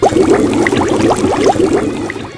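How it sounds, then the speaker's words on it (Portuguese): Water gurgles and bubbles loudly and close as a head is forced under in a piranha-filled aquarium, a short burst of churning splashes that fades slightly toward the end. "o segura e afoga sua cabeça em um aquário infestado de piranhas"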